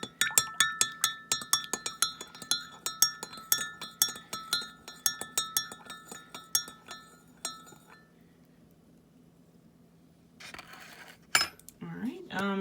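Rapid clinking of a utensil stirring a solution in glassware for an iodine clock reaction, a quick repeated tapping rhythm for several seconds, then quiet and a couple of scattered clinks.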